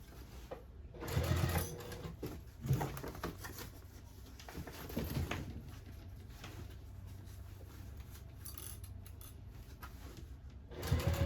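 A sewing machine stitches a tote bag in steady running bursts, its motor whirring close by with brief pauses and small mechanical clicks between runs.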